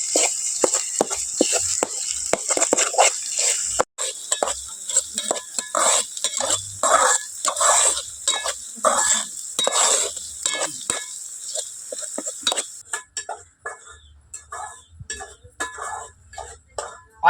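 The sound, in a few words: onions and ginger frying and stirred in pan for egg curry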